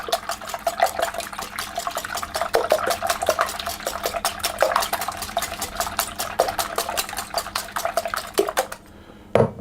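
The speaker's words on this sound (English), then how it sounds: "I'm going to take the eggs and I'm going to whisk those until they're all" Eggs whisked briskly in a bowl for a cake batter, a fast steady run of close metallic clinks and taps that continues without pause and breaks off near the end.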